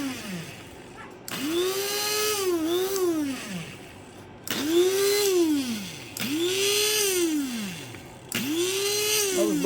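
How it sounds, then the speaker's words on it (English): Electric grinder chopping dried garden garlic leaves: repeated pulsed bursts of a whining motor that spins up and winds down in a rising-falling arc, four or five pulses in a row, close and fairly loud, with no talking. "we're going to grind it just a little bit more, though, because some pieces are not ground down like I like"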